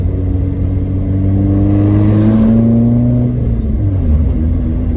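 An Opel Corsa A GSI runs on the road with a loud, steady engine drone, its pitch rising through a gear and then dropping and climbing again as it accelerates, with no voices.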